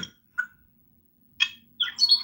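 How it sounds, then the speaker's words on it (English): Birds chirping at the beach, a few separate short, bright tweets and a squawky call scattered over near silence, fairly clear and close, with no talking. "You can hear them birds are clear."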